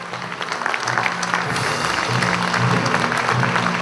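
Standing audience at a 2012 real estate awards ceremony applauds the award winners, steady loud clapping from many hands swelling over a few seconds, with voices murmuring underneath.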